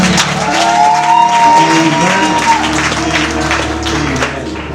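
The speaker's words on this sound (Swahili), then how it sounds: "Situwapige makofi." Wedding guests clapping after the vows, a sustained round of applause with a sung or tonal voice line running over it and occasional shouts.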